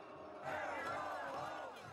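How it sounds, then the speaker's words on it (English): Loud crowd at a state capitol political rally shouting and booing a speaker, a dense wall of voices that swells after a moment and stays steady and close throughout. "The people here are loud. They are shouting and booing her down"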